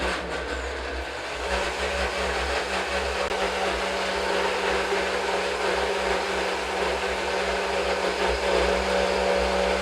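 A blender's motor whirs steadily and continuously at an even level while making a green sauce, spinning without pause, with no voices over it.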